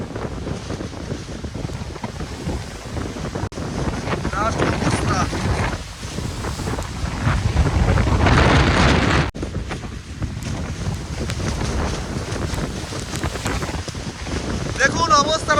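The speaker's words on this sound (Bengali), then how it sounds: "দেখুন অবস্থাটা দেখুন কি জোরে ঢেউ মারছে, ঢেউটা জাস্ট দেখুন।" Strong waves crash and surge at Mousuni during Cyclone Remal. A continuous loud roar of wind and water builds to a heavy rush midway, with gusts buffeting the microphone throughout.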